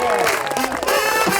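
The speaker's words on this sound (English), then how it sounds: "Let's give them another round of applause." Applause and crowd noise at a wedding swell together with loud voices talking over it, a dense, continuous wash of clapping from a room full of people.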